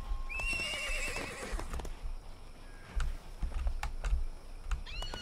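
A horse in the Disney Infinity Lone Ranger video game gives a loud, shaky whinny at the start, then goes quiet. Scattered hoof thuds and game noises follow over a low background.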